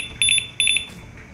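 A Jugbow DT-61 shock collar gives two short bursts of high, piercing triple beeps, close and clear against a quiet room.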